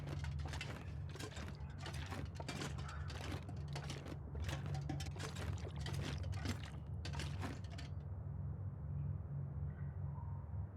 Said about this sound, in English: I like that you can hear the water drops in the cave.